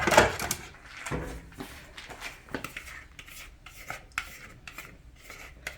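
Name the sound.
spatula scraping a dish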